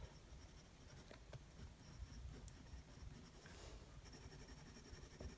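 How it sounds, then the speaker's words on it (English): Medium Yovo fountain pen nib gliding across paper, a soft close scratchy hiss of steady writing strokes with small ticks, quiet and alone. "It just glides across the page and puts down such a lovely sort of generous line."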